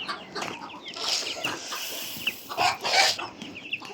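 Small chicks and hens clucking and peeping around scattered wheat, several close chirps and clucks rising in bursts, with some wing flutter and no talk.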